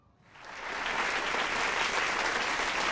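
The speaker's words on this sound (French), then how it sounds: "on ajoutera des applaudissements au montage" Applause dubbed in during editing swells up from near silence within half a second, then holds as a steady, moderately loud wash of crowd clapping.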